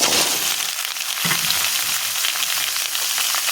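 Cut potatoes and pumpkin hit hot spiced oil in a pan, a loud continuous sizzle and crackle with a soft thud as the pieces drop in, then steady frying hiss.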